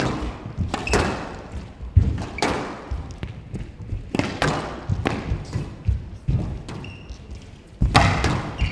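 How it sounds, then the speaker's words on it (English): Sharp thuds and cracks of a squash ball struck by rackets and smacking the walls in a professional match between Farag and Rodriguez at the Qatar Classic 2022, landing in an irregular rally rhythm, fairly close and loud, with arena murmur between shots. "It's a great lob, hearing the clanking of the Farag racket"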